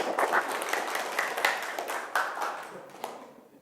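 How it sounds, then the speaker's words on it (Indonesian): Classroom applause for a student presenter during a university teaching session, a steady patter of many hands clapping that gradually thins and fades out, with no talking over it. "Tepuk tangan untuk Mas Gunawan."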